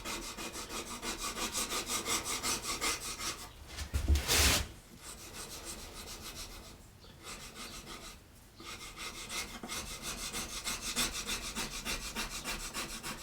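A tool rubs back and forth over freezer paper laid on wood to transfer an image, producing rapid rhythmic rasping strokes up close, pausing briefly a few times before resuming.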